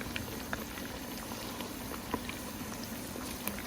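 Pork fries in bubbling oil, a close, steady bubbling crackle with small pops scattered throughout.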